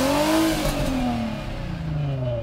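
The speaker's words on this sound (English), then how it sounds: "Let's hear what the engine sounds like." Infiniti FX35 with a twin-turbocharged engine and twin exhaust pipes revving, a loud close engine note sweeping up and then easing down in pitch over a couple of seconds.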